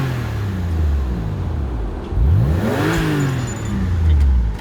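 A 2001 Porsche 911 Carrera 4 (996) engine revved while sitting in traffic: a low idle swells into a rising rev, falls back, then climbs again, loud and close, with no talking.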